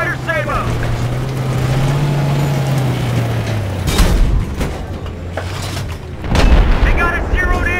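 In a Battlefield 3 tank battle, a tank engine drones low while heavy cannon blasts boom twice, loud and close, amid shouted voices and the rumble of combat.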